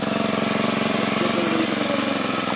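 A HOYOMA grass cutter's motor runs steadily under load while cutting through grass and sweet potato growth, a loud, continuous buzzing drone with a fast pulsing rhythm and no pauses, close to the listener.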